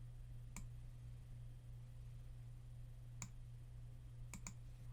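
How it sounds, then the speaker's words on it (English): Sharp, quiet mouse clicks, about four of them: one early, one in the middle, then two close together near the end. They ring out over a steady low electrical hum, with no talking. "I'm going to left click on the diamond"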